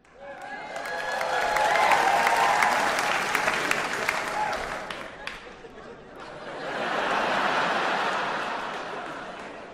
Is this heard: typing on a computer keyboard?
no